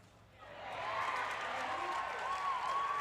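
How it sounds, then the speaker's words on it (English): An arena crowd at a pickleball doubles match of the Foot Solutions Arizona Grand Slam swells into steady cheering and applause, a dense distant roar with a whistle cutting through, continuing under a commentator's voice. "the crowd is amped into this here"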